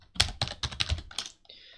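Fingers tap quickly on a desktop computer keyboard, a run of about six crisp, close keystrokes followed by a brief softer click.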